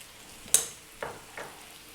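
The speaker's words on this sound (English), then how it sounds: "We're now going to drop in our garlic ginger paste" Garlic ginger paste hits a pan of browned onions for a potato chickpea curry, giving a sharp sizzle followed by two softer stirring scrapes and a continuing low fry.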